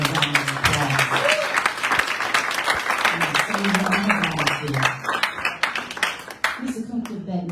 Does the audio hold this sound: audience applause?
yes